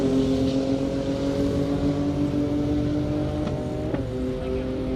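A high-powered Nissan GTR tears down a half-mile airstrip at over 200 mph, its engine a loud, sustained roar with steady harmonic tones that rise slightly as it passes near.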